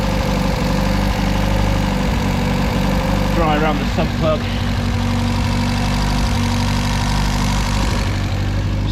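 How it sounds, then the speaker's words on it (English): A Triumph Spitfire 1500 engine idles steadily throughout, a low continuous rumble close by, with someone talking over it. "Stop the engine now and we'll recheck the level."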